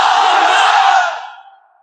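A large crowd shouts the takbir, "Allahu Akbar," in unison at a religious sermon gathering, a loud, sustained massed roar of voices that fades out over about a second.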